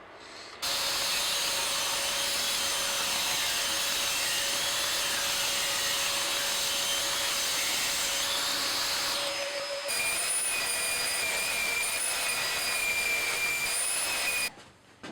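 Steady, loud sanding whir on a cherry wood fretboard, running continuously with a brief dip near ten seconds before resuming and stopping abruptly at the end; no talking.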